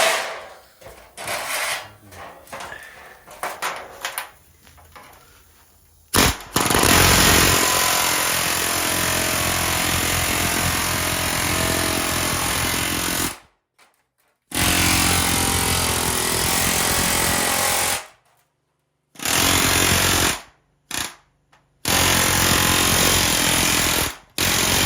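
A pneumatic air chisel fitted with a 13 mm socket welded onto the bit hammers sheet metal to shape a wing extension for a Mini Austin, running in long loud continuous bursts separated by short silent pauses.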